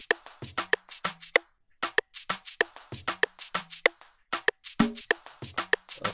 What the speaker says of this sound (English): So everything together sounds like this, including the conga sound.